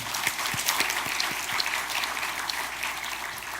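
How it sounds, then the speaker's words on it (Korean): A church congregation claps for the choir, with a brisk, fairly close wash of hand claps and a few sharper individual slaps standing out. "우리 성가대원들을 위해서 박수 한번 합니다"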